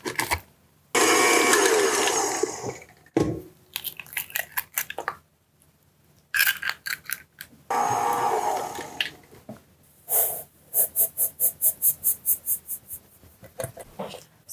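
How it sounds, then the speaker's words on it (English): A stand mixer starts on red velvet cake ingredients for a homemade wedding cake, running in loud bursts of churning motor noise broken by pauses and rapid rhythmic clattering, close by. "I'm just going to throw them into my mixer here and get started"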